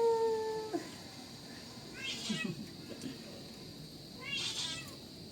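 A cat meows twice, the second call about two seconds after the first, each one plaintive and fairly close. A sharp whistle-like tone sounds at the start, and faint background noise continues throughout.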